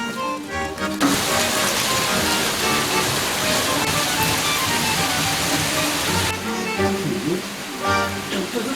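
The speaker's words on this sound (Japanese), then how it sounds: "雨が降ってきちゃった。" Steady rain falls across the whole stretch as a dense, even hiss, fairly loud and close, while a voice talks briefly over it near the start and end.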